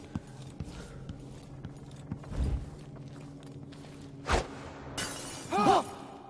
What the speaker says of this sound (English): Broken glass.